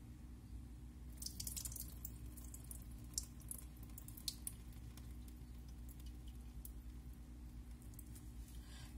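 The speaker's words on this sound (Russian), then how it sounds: "И теперь мы сливаем весь раствор с наших орхидей." Soaking solution drains out of orchid pots in a closed system, with soft trickling, dripping and splashing water that is quiet and steady, with brief spatters in the first half.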